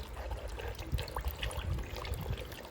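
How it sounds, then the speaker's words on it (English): Old oil and dirt dribbling out of a DNA air filter during cleaning for a Royal Enfield Super Meteor 650, a steady close wet trickle and pour with scattered drips and splashes. "you'll see the previous oil that is coming out from the filter"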